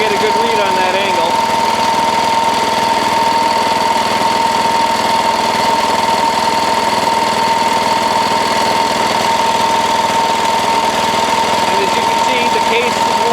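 Diesel Wheel Horse garden tractor engine idling steadily just after a cold start, a loud continuous mechanical drone with a strong knocking hum throughout, close to the machine and uninterrupted.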